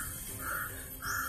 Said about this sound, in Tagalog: Grabe yung mga uwak.